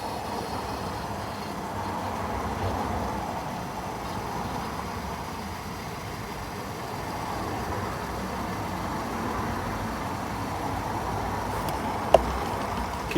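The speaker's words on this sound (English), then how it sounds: "And we're going to spray as much as we can in there." An aerosol cleaner sprayed into the air-conditioning system of a Skoda Yeti 4x4 gives a continuous, even hiss that runs steadily throughout, with a faint click near the end.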